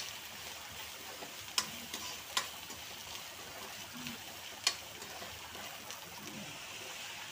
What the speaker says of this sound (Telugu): కలుపుతూ ఉన్నాం